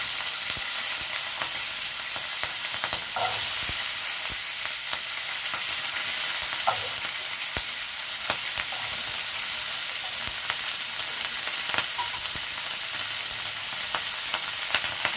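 Spring onion stalks fry in a pan with a steady, loud sizzling hiss, punctuated by occasional light clicks and scrapes of stirring, with no voices.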